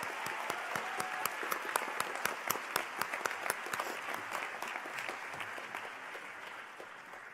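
Audience applause at a graduate school convocation ceremony, a room of people clapping with sharp individual claps standing out, gradually thinning toward the end over about seven seconds.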